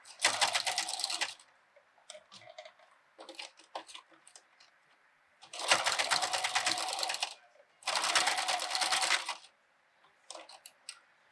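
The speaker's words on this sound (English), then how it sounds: "it's gonna be thick as you're sewing, so it might be loud, but that's normal because you're going through a lot of layers" A sewing machine stitches through thick pleated fabric mask layers, loud close bursts of rapid needle chatter lasting a second or two, separated by quieter pauses with fabric handling and small clicks.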